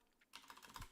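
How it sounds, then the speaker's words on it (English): Quick keystrokes on a computer keyboard, a close, quiet burst of rapid clicks that starts abruptly and runs on, with no talk. "again, I'm typing in wrong areas."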